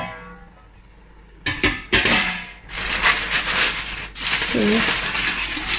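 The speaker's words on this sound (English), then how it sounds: "I'm going to open the jollof rice and see how it's doing" A metal lid clatters and scrapes off a pot of cooking jollof rice, giving a few sharp clinks followed by a steady hiss of steam and bubbling, with a brief voice sound.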